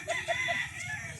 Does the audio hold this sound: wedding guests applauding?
no